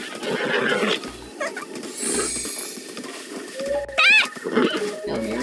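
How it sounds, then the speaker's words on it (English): Horse in a video game neighing, a short high whinny rising and wavering near the end, loud and close among small mechanical clicks and quiet game sounds. "This horse."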